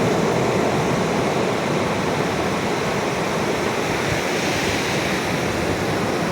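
Sea waves at Suryalanka beach, Bapatla, a continuous loud roar of surf washing in and out, close and unbroken, with no voices.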